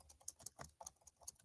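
Fast, uneven clicking of fingers typing on a computer keyboard, close and fairly quiet, with short bursts of keystrokes and brief gaps and no voices.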